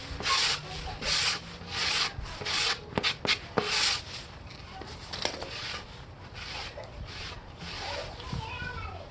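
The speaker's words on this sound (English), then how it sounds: "Step one is just to lightly sand and clean it." Plywood is lightly hand-sanded before edge banding, with short rhythmic rubbing strokes in bursts, a few sharp taps in between, then softer continuous scrubbing, close and fairly quiet.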